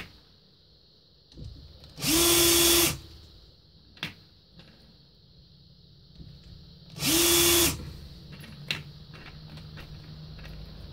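A power tool trimming and chamfering 223 brass rifle cases runs in two loud bursts of about a second each, separated by quieter handling clicks and taps of the brass.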